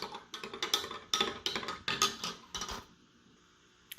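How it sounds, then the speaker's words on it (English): A utensil scrapes and clinks rhythmically against a bowl while stirring a yeast mixture, roughly a dozen close, sharp strokes over under three seconds before stopping, followed by near silence and one faint tap. "giving it a little bit of a stir."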